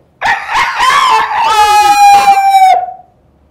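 A child at a school for blind children mimics a rooster's crow in one loud, close, rising and stretched call of about three seconds that ends in a sustained high note.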